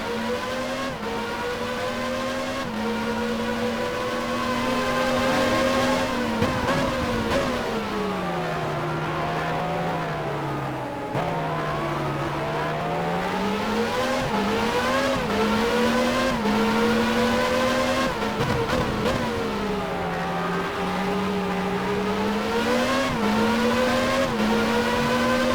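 F1 race car on a qualifying lap at the 1994 Canadian Grand Prix in the F1 Challenge 99-02 video game, its engine note climbing and falling with each gear change and braking zone, loud and continuous.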